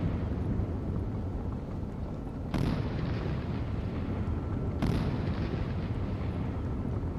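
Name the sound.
naval guns firing in the video game Sea Power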